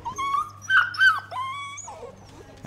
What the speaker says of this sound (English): Beautiful little puppy.